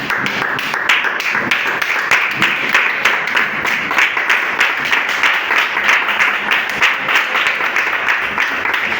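A church congregation at a Sunday service applauds loudly and continuously, many hands clapping in a dense, steady roar that holds at full strength for the whole stretch.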